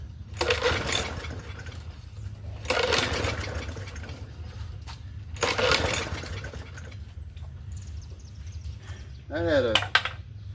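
A free Murray 4.5 hp push mower engine sputters in three short, loud bursts a couple of seconds apart, with quieter pauses between, and a brief sharp pop near the end; voices talk faintly around it.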